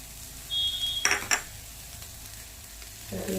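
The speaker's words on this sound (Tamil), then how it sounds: "இதையே சேர்த்து சும்மா லைட்டாக ஒரு வதக்கு அடிக்கிட்டு அவ்வளோதாங்க." Grated coconut stirred into mixed sundal in a pan, a quiet scrape and clink of the spoon against metal with a faint background sizzle, no talking.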